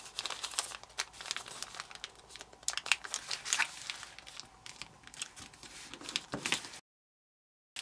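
Sheets of origami paper being folded and creased, a run of close crinkling and crackling rustles in quick irregular bursts, fairly faint, then ending in silence.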